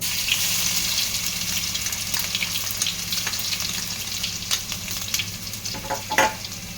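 Continuous oil sizzling and frying of crushed ginger and garlic close up, with intermittent scraping stirs and small crackling pops throughout.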